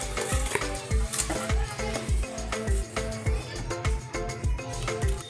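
Dhokli being stirred in a pan for Kathiyawadi dhaba-style dhokli shaak, a steady run of scraping, clinking strokes with a faint sizzle, loud and close, no voices.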